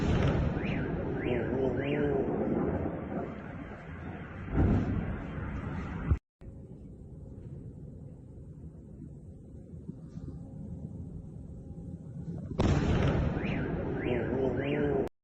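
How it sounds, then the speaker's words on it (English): Distant missile explosions during a Russian strike on Kyiv, carrying as deep, rumbling booms, with a car alarm repeatedly wailing nearby, cutting out midway and then resuming. "That was actually a pretty dang big explosion detonation."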